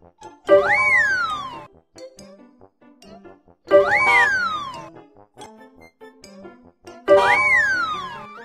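Cartoon kitten meows from a children's video game, three identical bright sliding meow calls with chiming sparkle effects, spaced about three seconds apart with quiet gaps between.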